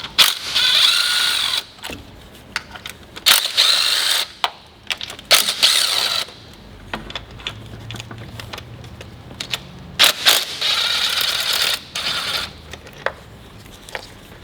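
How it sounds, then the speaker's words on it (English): An electric impact wrench with a deep socket zips bolts out of a 2019 Ford F150 with the 5.0 engine, repeated loud bursts of rattling hammering separated by short pauses, close up in a garage. "we can use an electric impact to make the disassembly go a little faster"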